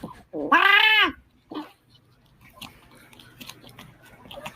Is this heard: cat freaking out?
yes